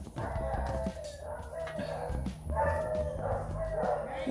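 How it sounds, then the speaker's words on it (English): Several dogs belonging to a neighbor bark outdoors in short irregular bursts, moderately close and loud, with some yips between them and faint background noise. "That's my neighbor's dogs barking."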